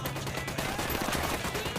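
Rapid gunfire in the Ghost Recon Wildlands video game, a short dense burst of shots that overlaps busy game ambience and stays close and loud.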